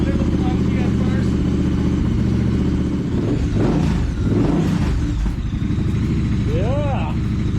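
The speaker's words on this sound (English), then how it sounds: "let's fire up the Truxton" A Triumph Thruxton motorcycle engine idles loudly and steadily up close, its low clattery rumble continuous throughout, with a couple of brief throttle swells midway and a short rising whine near the end.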